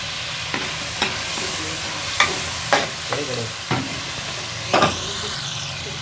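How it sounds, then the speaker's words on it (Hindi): Green chillies fry in a pan with onion, tomato and a splash of water for a mixed vegetable sabzi. A steady sizzle runs throughout, punctuated by repeated spoon scrapes and stirs. "हरी मिर्च ऐड करेंगे।"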